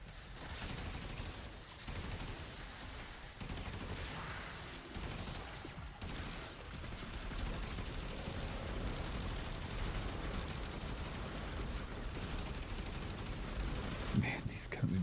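Sustained bursts of gunfire from guns in the video game Warframe, a dense continuous wash of shots and mechanical noise at steady loudness, with someone talking over it.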